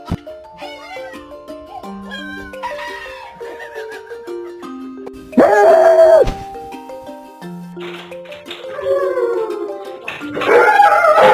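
A husky dog howls and yowls in long, wavering, drawn-out cries close by, with several separate vocal bursts rising and falling, the loudest near the middle and the end.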